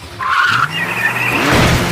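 A cartoon car skids hard with a loud, sustained tire squeal lasting about two seconds, the screech rising and wavering over a low engine rumble, with no talking.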